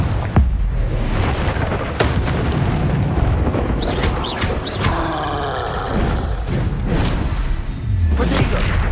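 Confringo blast spells explode during a hectic Hogwarts Legacy duel: loud, thudding booms and impacts repeat every second or two over busy low rumble, with whooshing spell effects in between.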